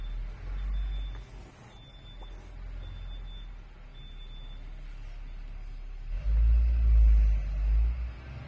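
Vehicles pass on a roadside street by a house, a steady low rumble of traffic that swells into a louder heavy pass near the end, with a faint high whine earlier on.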